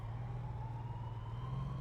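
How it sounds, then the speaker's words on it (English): Police sirens in the video game Big Ambitions, a steady wailing tone holding continuously over a low engine-like rumble, moderately loud with no talking. "Alright, game. I hear your sirens."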